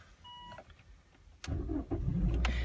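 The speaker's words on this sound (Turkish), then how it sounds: "arabamız çalışıyor gördüğünüz gibi" A car engine cranks and catches after a quiet stretch of small clicks, then settles into a loud, close idle with a slight rev for the remaining second.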